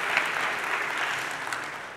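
Audience at a KotlinConf 2018 conference talk applauding, a dense steady wash of clapping that holds for the whole stretch and fades slightly at the end.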